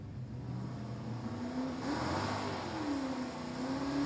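Drag race cars at an NHRA Division 3 event, including a Ford Mustang with a 140-cubic-inch four-cylinder, accelerate and rev at a distance, the engine pitch rising and falling steadily, with no talking.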